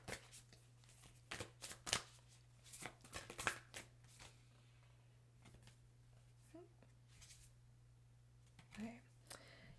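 Moonology oracle cards being shuffled by hand, a series of quick papery riffles and taps close to the microphone over a steady low hum, with soft handling noises between bursts.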